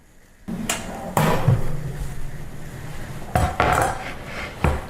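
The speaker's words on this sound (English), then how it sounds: "now they are finished and we're ready to pull them out of the oven" Metal pans of roasted eggplant are pulled from an oven, giving a few loud clanks and scrapes of metal on the oven rack against a low background hum.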